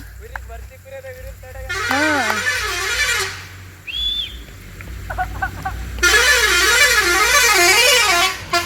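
A bus sounds its musical, warbling horn in two long blasts on a road near Ripponpet, Karnataka, where nomadic shepherds drive their flock of sheep, with a brief high whistle-like tone and short clattering sounds between the blasts.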